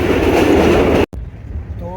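The 104 Down Subak Kharram rail car rumbles along the tracks on its inaugural journey with a loud, close, steady roar. It cuts off abruptly, then continues as a quieter running hum.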